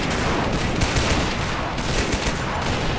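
Dense, continuous machine-gun fire from an MG emplacement in Men of War: Assault Squad 2, loud overlapping bursts that merge into sustained battle noise.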